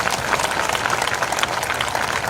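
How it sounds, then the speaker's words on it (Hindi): A congregation at a live prayer service led by Prophet Bajinder Singh claps loudly and steadily, a dense wash of hands that keeps up for the whole stretch. "जोरदार ताली बजाकर धन्यवाद दें"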